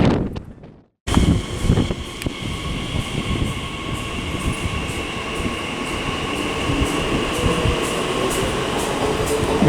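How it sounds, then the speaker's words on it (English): A TfL Rail class 345 electric train pulls out of Romford station on the Great Eastern Main Line, a steady close rumble of wheels and traction that holds loud after a brief silent moment, with some wind noise on the microphone. "345042 there, departing with the 11:58 TfL rail service to London Liverpool Street from Shenfield"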